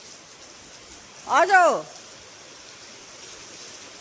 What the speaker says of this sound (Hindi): और भी तेज होगी बारिश